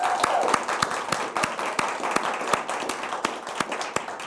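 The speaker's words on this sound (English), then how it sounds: "Another round of applause for the amazing Peter Thomas." A small audience at a live arts show claps for a Milwaukee Symphony Orchestra musician, with individual hand claps standing out sharply and fairly evenly over a softer, thin bed of clapping for about four seconds.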